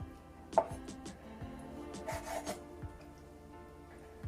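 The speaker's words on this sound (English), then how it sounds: "the rest you can just cut up small bite size" A knife cuts jerk salmon into small bite-size pieces on a board, quiet scattered taps and scraping strokes up close with no voices.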